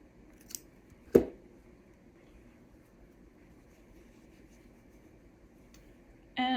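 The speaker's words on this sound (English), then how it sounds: "cut your yarn" Scissors snip through yarn once, a short crisp cut close to the mic, with a fainter click just before it in an otherwise quiet room.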